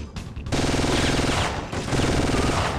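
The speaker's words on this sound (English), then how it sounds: "ooh, a G18. I forgot about this weapon. We're gonna use this for a bit." Rapid automatic fire from a G18 machine pistol in Syphon Filter, two sustained bursts of fast, evenly spaced shots with a brief gap between them, loud and close.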